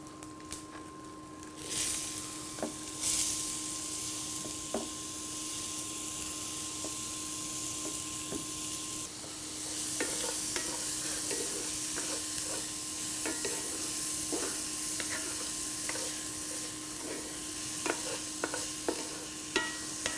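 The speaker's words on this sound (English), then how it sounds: "I'm gonna add another tablespoon of olive oil, and let's saute our onions." Onions sauté in olive oil with a soft, even sizzle and scattered light clicks and taps of stirring, close yet fairly quiet, a faint steady hum underneath, with no talking.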